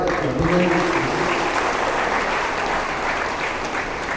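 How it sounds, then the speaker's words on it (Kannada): Loud, sustained applause from a crowd at a religious anniversary gathering at Sindagi Math, Haveri, a dense wash of clapping that holds steady for several seconds. "ಅವರ ಸೇವೆಗೆ ಜೋರಾಗಿ ಚಪ್ಪಾಳೆ"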